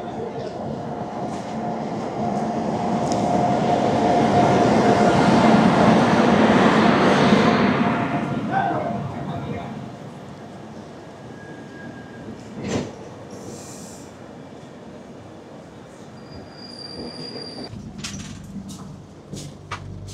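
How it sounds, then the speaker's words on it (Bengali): The 12019 Ranchi Shatabdi Express pulls into a station platform with a loud, rumbling roar and wheel squeal that builds to a peak and then fades, leaving quieter platform ambience and scattered clanks. "সামনেই দেখতে পাচ্ছ 12019 রাঁচি শতাব্দী এক্সপ্রেস আসছে এই প্ল্যাটফর্মে"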